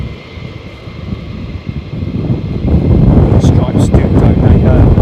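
Military jet arriving at RAF Lakenheath, a low engine rumble that grows louder partway through and stays strong to the end, with a voice talking over it.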